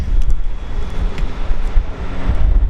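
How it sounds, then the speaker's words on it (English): Steady wind blows outside a small window of a historic house, a loud continuous rushing roar with a low rumble that persists throughout, and no one speaks. "it's a little windy as well"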